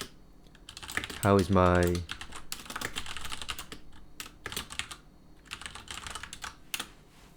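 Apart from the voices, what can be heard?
typing on a computer keyboard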